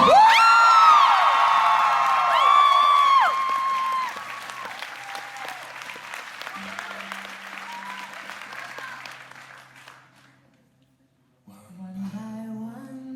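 Audience applause with whoops and cheers fills a live concert and panel at MomoCon, loud at first, then thinning to scattered clapping before fading out, followed by a brief tonal sound.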